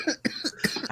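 Hard, repeated coughing from a man, several forceful bursts in quick succession within about a second, close and loud.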